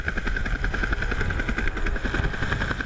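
A military helicopter carrying troops to a remote site in Peru during anti-drug operations, its rotor chopping in a steady fast beat with a whining turbine tone, loud and continuous as if heard from on board.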